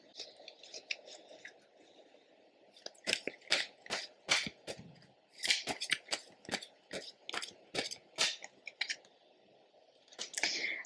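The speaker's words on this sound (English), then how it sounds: "And I'll pull a few cards now." Tarot cards are shuffled and handled up close, giving a quick run of crisp, papery snaps and flicks in irregular bursts over a faint background hum.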